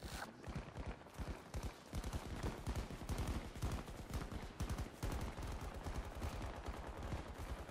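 Rapid bursts of gunfire from a weapon in the video game Battlefield 2042, steady repeated shots with a fast rhythm running throughout, loud and close, with no talking.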